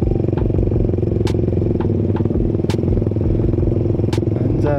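Loud modified Suzuki Satria FU motorcycle engine rumbling steadily while riding, with rhythmic exhaust pulses and occasional sharp clicks and clatter close by.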